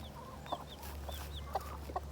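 Chickens cluck softly in a homestead chicken area, with several short clucks and chirps over a low steady hum.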